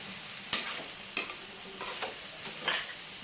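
Mixed vegetables softening in a pan, a low sizzle broken by four or five sharp spoon scrapes and stirs, close and fairly quiet with no talking.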